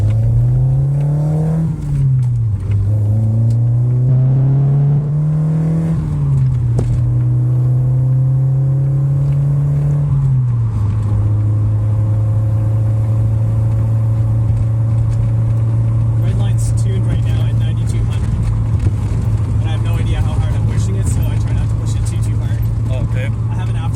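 A 1985 Toyota MR2 with a Monza header-back exhaust revs up and down a few times close by, then holds a loud, steady engine drone for the rest of the stretch.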